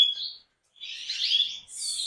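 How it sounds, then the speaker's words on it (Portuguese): Red mosaic canaries chirp in short bursts, with a brief trill, a pause, then a busier run of high, bright tweets from several birds close by. "Vamos pegar como exemplo aqui, Guilherme, o meu plantel de vermelho mosaico"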